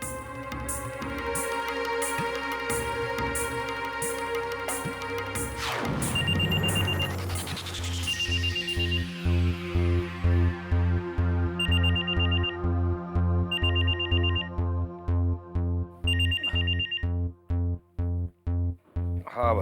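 A telephone ringtone plays a repeating electronic melody as a call goes through to a friend at night, with rhythmic bursts of ringing continuing steadily for most of the stretch.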